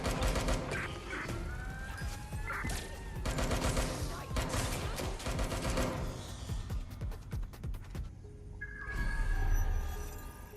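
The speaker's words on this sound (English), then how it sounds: "I'm hearing gunfire." Bursts of rapid gunfire in the video game Watch Dogs: Legion crackle and rattle in quick volleys, with sharp individual shots scattered between, fading into quieter background noise near the end.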